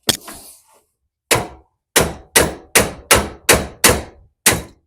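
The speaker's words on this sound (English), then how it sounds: "Tap it with a hammer while I'm pulling." Hammer taps ring out on a Volkswagen suspension part during restoration, one strike, a pause, then seven sharp metallic whacks in a steady rhythm, close and loud, with no talking.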